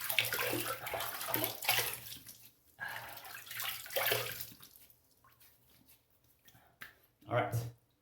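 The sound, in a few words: water splashed on face before shaving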